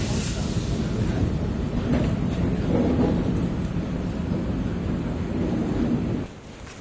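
The Mangalore–Chennai Egmore Express rumbles along the track in a loud, continuous low roar heard from on board, holding steady for several seconds before dropping off sharply near the end.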